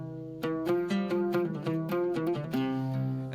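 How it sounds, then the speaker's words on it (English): Guitar plucking a slow melodic phrase in Middle Eastern quarter tones, with distinct single notes ringing clearly and alone, each attack followed by a short sustain. "a quarter tone sounds like this."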